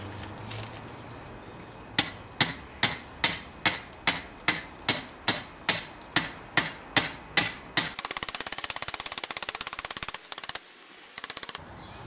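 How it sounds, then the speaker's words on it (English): Metal ground rod being hammered into the earth for an antenna station: about fourteen evenly spaced, ringing blows, loud and close, then a rapid stuttering burst of rattling impacts with short pauses, no talk. "Get the ground rod in."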